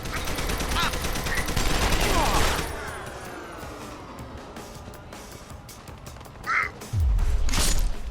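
Game gunfire in Deus Ex: Human Revolution against heavily armored enemies, dense rapid shots early then fading into a softer ambient stretch, with a renewed loud burst near the end; no speech over it.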